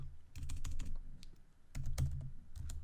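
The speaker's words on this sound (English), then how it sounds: "we'll just go ahead and type out language to see what it is" Fingers type on a computer keyboard while coding an Android app, two close bursts of quick, clattering keystrokes separated by a short pause.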